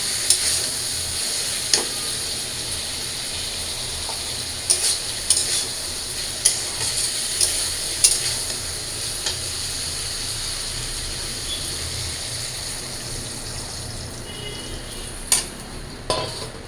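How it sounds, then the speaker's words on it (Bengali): Sautéed vegetables being stirred in a pan after broth is added for a dal, with a steady soft simmering hiss and scattered scraping clicks of a spoon against the pan, close and continuous. "এবার আমি ঝোল দিয়ে দিই"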